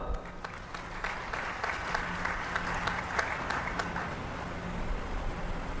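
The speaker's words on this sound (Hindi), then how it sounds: "उनके स्वागत में भी ताली मारो" A crowd claps in welcome for an honoured guest at a Hindi-language gathering, steady applause swelling for several seconds and then thinning into scattered claps over a low background hum.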